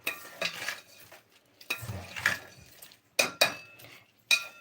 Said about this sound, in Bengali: আমি কাঁচা অবস্থাতে মিশিয়ে নিচ্ছি